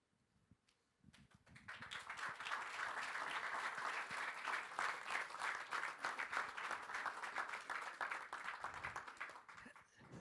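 Audience applause at a World Jurist Association event builds quickly after a brief quiet start, a dense steady patter of many hands clapping that holds loud and full before easing slightly at the end.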